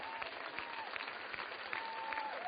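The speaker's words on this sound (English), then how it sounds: "Let's hear a round of applause for Dawn for helping me out here." Applause from a seminar audience for a volunteer called up on stage, a steady even patter of many hands that carries on for a couple of seconds, moderately distant and fairly quiet.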